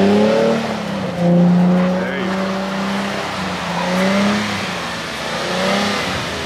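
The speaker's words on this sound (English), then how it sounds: "only your left tire, your inner tire was spinning" A car with an open differential spins a single inner tire in first gear, the engine revving in rising and falling surges, loud and close, with a harmonic engine drone throughout.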